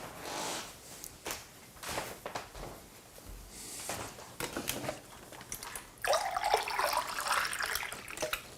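Water running from a tap while painting, an irregular splashing gush in short bursts that becomes a steadier, louder stream toward the end, heard close with no talking.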